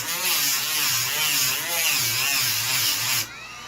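A power tool cuts and trims aluminum panel parts in a shop, a loud continuous buzzing grind with wavering pitch and slight rhythmic pulsing that stops abruptly near the end.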